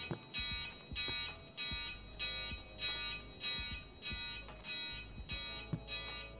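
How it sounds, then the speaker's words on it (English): Repeating alarm in Escape from Tarkov, sounding in loud regular pulses of roughly half a second, about eight of them, steady and close, with no talk over it. "the alarms are absolutely deafening me right now"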